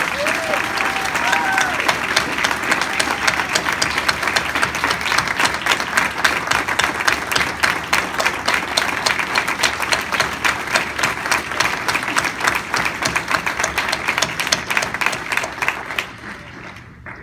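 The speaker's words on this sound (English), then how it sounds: "Can we please give them a round of applause for the honor of God?" A fundraiser audience gives a long round of applause, with crisp, rhythmic clapping that settles into a steady beat, a few voices calling out early on, before dropping away near the end.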